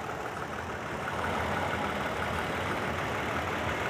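A 2016 Toyota Tacoma TRD Off Road engine idles steadily and smoothly, a continuous broadband mechanical drone heard close in the engine bay, rising slightly in level after the first second and then holding even.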